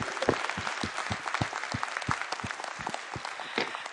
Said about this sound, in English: They're clapping loud enough for you to hear in Chicago